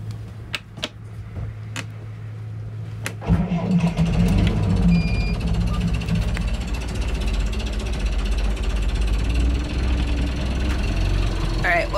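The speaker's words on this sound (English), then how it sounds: "you need to start the engine" A sailboat's inboard engine starts with a sudden surge around three seconds in, then settles into a steady, loud idle that runs to the end, preceded by quieter cabin sounds.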